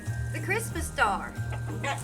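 Chickens cluck in short low bursts close by, on a snowy evening after a Christmas blizzard, while people talk over them.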